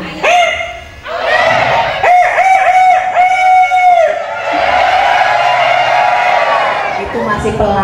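People at a storytelling training in Indonesia imitating a chicken, a string of loud rooster-like crows and clucking cries one after another, with a crowd murmuring and laughing beneath.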